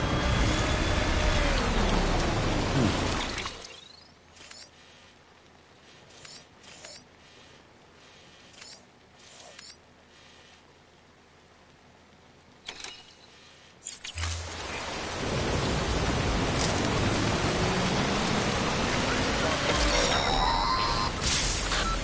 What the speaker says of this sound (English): We've been getting near constant timefall in this region for a while now.